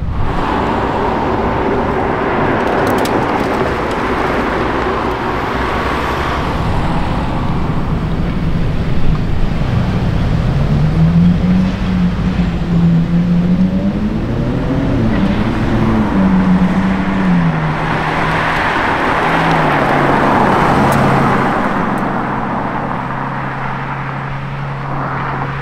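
A McLaren supercar engine drones steadily under wind rush, its pitch climbing and falling through revving sweeps midway before settling into a steady hum, loud and continuous throughout.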